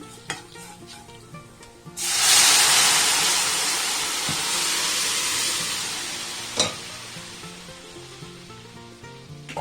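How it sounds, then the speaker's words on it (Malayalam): Horse gram curry is poured into a hot mustard-seed tempering, setting off a loud sudden sizzle that swells and then slowly fades over several seconds, with a faint clink of a utensil partway through and no talking. "ഇനി നമുക്ക് മുതിര ഇതിനകത്തേക്ക് ഒഴിച്ചു കൊടുക്കാം."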